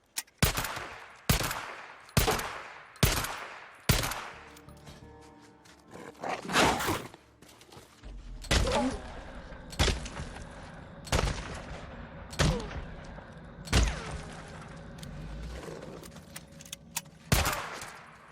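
Gunfire from the 22 repeater rifle in the video game Days Gone. Loud single shots are spaced about a second apart, with a pause for reloading clicks and handling noise midway, then more evenly spaced shots.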